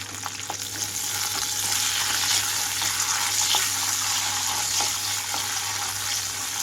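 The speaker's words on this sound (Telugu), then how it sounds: "ఆయిల్ అంతా కాగిన వెంటనే పచ్చిమిరపకాయలు వేస్తున్నాను" Slit green chillies sizzling in about a tablespoon and a half of hot oil in a pan, a dense, steady crackling fry held close and loud throughout, with no talking.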